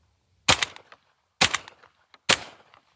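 Three loud shotgun blasts, about a second apart, from a Benelli Montefeltro Ultra Light inertia-driven semi-automatic shotgun fired at clay targets, each sharp report trailing into a short echo.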